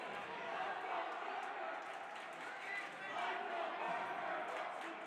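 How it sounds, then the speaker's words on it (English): Hockey crowd at a high school game between BND United and Aquinas, chanting and cheering for a player, a dense steady roar from a packed rink with rhythmic swells. "The fans cheering, let's go Berger"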